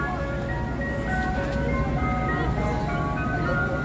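An ice cream truck decorated with Christmas lights plays its chiming jingle on a Philadelphia street at night, steady melody over engine and traffic rumble, with a voice talking faintly.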